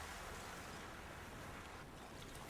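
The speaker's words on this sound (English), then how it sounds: "I'll just pour the water into the bucket hanging from the hat stand" Water pours into a bucket hanging from a hat stand in the adventure game Secret Files 2: Puritas Cordis, a brief, faint, steady rushing splash heard alone.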